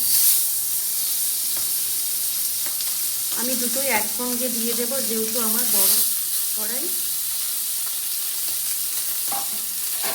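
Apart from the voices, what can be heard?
pomfret fish frying in oil in a wok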